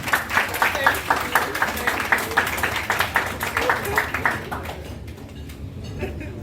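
An audience at a book launch in Lagos claps in a dense round of applause, loud at first and then thinning out and fading to near quiet by the end.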